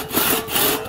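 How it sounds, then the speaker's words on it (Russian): Wood being sawn by hand on a sawhorse during ladder building, two rasping back-and-forth strokes close by, rough and scratchy, with no talking over them. "Вот козел под ними, на котором они пилят."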